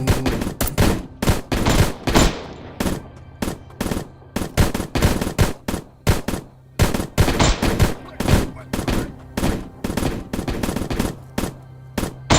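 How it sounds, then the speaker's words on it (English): Shotgun blasts fire in Plains of Pain, a long run of loud, sharp reports, some in quick pairs and others spaced out, steady across the whole stretch with no other sounds between. "Shotgun."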